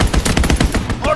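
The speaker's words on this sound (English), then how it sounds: "Fighter pilot inbound. Strafing the target." Fighter plane strafing run in Call of Duty: WWII, with loud, close, rapid machine-gun bursts hammering in a fast rhythm, and a faint voice underneath.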